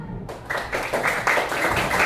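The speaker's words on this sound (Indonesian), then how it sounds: "tepuk tangan untuk kita semua" Schoolchildren in a classroom clap together in a steady burst of applause, close and fairly loud, sustained for a couple of seconds.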